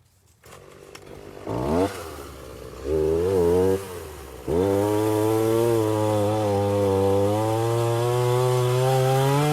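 Chainsaw cutting into the thick wall of a giant pumpkin, idling unevenly at first, then revving up in two short bursts before settling into a loud, sustained high-revving cut near the listener.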